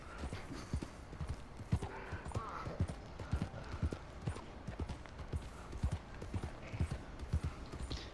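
Horse hooves clip-clopping steadily in Red Dead Redemption II, a brisk, even rhythm of sharp hoofbeats that continues throughout while people talk over it.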